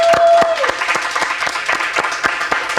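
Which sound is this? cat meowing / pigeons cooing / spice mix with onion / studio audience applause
studio audience applause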